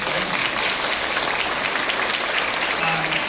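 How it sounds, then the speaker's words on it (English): A high school wind ensemble audience applauds at a concert, dense steady clapping from a large crowd filling the room, with faint voices underneath. "I would love to give a shout out and a round of applause to Vicki Crawley"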